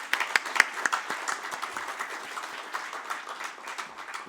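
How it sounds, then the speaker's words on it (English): An audience at a Singapore book event gives steady, moderately loud applause in a hall, with individual claps audible within the crowd throughout. "a big round of applause"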